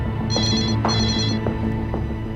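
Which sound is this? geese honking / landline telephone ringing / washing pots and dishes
landline telephone ringing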